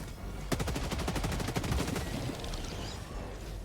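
Rapid burst of automatic gunfire from the Cutting Edge weapon in Helldivers 2, a fast even string of sharp shots lasting about a second and a half, then tailing into a softer rumble, with no voices.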